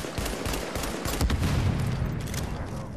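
Dense, continuous gunfire from a shotgun battle in The Division, loud and unbroken across the whole stretch with heavy low booms layered under rapid reports.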